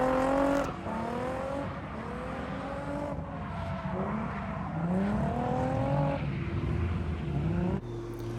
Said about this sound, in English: this is actually some street drifting in the Miata